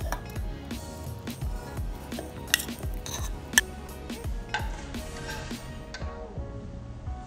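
A spoon clinks and scrapes against a jar while scooping peanut butter for a homemade weight-gainer shake, with repeated soft knocks and a couple of sharper taps over a steady kitchen background.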